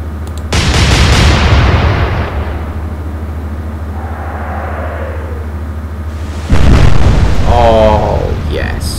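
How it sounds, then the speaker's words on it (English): Naval gunfire salvo from a warship in the video game Atlantic Fleet: two loud, booming blasts with rumbling tails, the second arriving several seconds after the first, with a brief quieter stretch between them. "That's a pretty good salvo."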